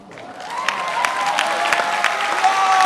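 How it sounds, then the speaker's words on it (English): An audience at a high school senior awards night applauds a student for perfect attendance, a swelling burst of clapping with a few scattered cheers and whoops mixed in. "give Connor Manugian a round of applause for never missing a day of school since he has been in kindergarten"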